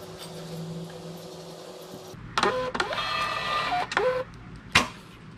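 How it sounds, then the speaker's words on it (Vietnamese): A Bluetooth thermal printer prints a 76x130 shipping label, quiet at first, then a whirring, buzzing run of feed noise with a few clicks and a sharp snap near the end. "bây giờ các bạn bấm in nè, kết nối máy in nè."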